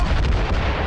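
Mortar round striking a sailing ship during a naval ambush in Assassin's Creed Rogue, one brief heavy booming impact, loud and close.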